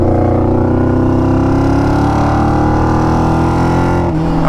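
A 600cc go-kart engine revs hard and continuously, a loud, buzzy high-pitched drone with steady harmonics that rises in pitch, then drops sharply near the end as the throttle is released, with no voices.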